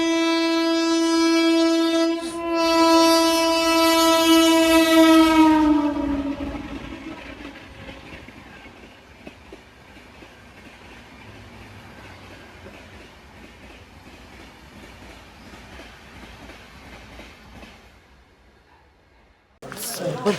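A train passes close by with a loud sustained horn blast at the start, followed by rumbling carriage wheels and clickety-clack fading into the distance.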